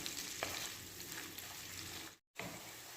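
Hotdogs frying in a pan give a steady, dense sizzle and crackle, close and fairly loud, broken by one brief silent cut near the end.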